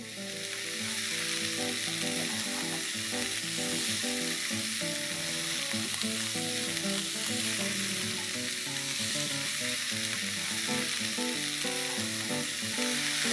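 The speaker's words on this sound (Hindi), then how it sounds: "इसे अच्छे से हिला लेंगे।" Carrots and green peas fry in a pan with a constant loud sizzle, while a spoon stirs them through in a steady, repeated scraping rhythm for the whole stretch; no speech.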